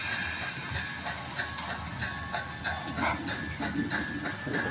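A model railroad sand train runs with a continuous rolling rumble and light clicking, plus faint hissing and a few intermittent squeals.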